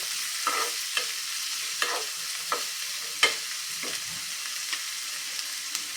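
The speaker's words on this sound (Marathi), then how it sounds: "एक छोट्या आकाराचा टोमॅटो मस्त हे देखील छान मिक्स करून घेऊया" A small tomato being stirred into masala frying in a pan, with steady sizzling and several sharp scraping clicks of a spoon against the pan.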